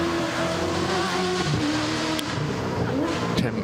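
Rally car on a forest rally stage launching off the start line, engine revving hard and rising in pitch over about three and a half seconds, loud and close with crowd noise beneath.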